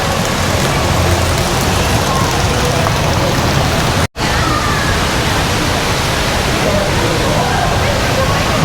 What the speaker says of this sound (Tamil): எலிஃபண்ட் இப்படி தண்ணி கொட்டுற மாதிரி செட் பண்ணியிருக்காங்க பாருங்கள்